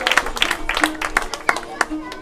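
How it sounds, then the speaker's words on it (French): A small group claps for themselves, a close, loud burst of fairly rhythmic hand claps with a few stronger accents and some voices audible underneath. "Applaudissez pour vous-même."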